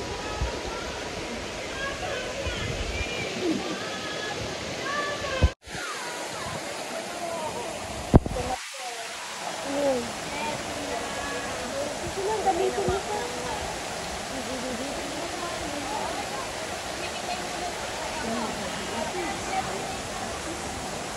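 A waterfall near Mid-Levels, Hong Kong, gives a steady broadband rush of falling water, with people talking over it and a couple of brief knocks.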